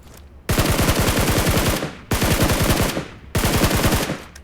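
Three long bursts of rapid automatic gunfire in PUBG Mobile, each a loud, steady stream of shots lasting over a second, separated by short pauses, close and dominating with no talk.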